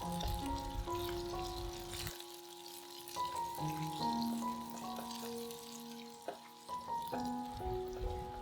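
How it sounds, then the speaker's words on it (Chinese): Tofu and green peppers pan-fry in oil, giving a soft sizzle beneath prominent background music. "另一面稍微煎一会儿就行。"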